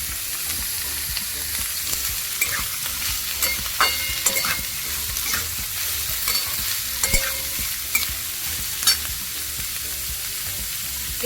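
Beans, capsicum and other chopped vegetables fry in a pan for upma, a continuous sizzle punctuated by frequent clattering spatula strokes and scrapes, close and busy, without any talking.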